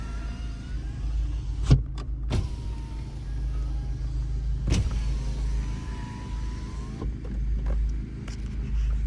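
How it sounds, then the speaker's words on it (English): A 2019 Honda Civic Si with turbo engine runs its power windows inside the cabin, a low steady motor hum over idle rumble with a few soft clunks as the glass moves and stops. "You got your power windows."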